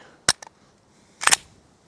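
Sharp clicks and snaps from a PSA Micro Dagger pistol fed from an OEM Glock magazine: a crisp crack followed by two small ticks, then a louder clustered burst of snaps about a second later, close and brief.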